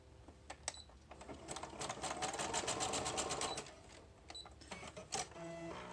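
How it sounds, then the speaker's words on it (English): A sewing machine stitches pieces of a packing-paper journal together in quick mechanical bursts, the needle's rapid rattle stopping and starting at close range. "Okay, so let's sew that together."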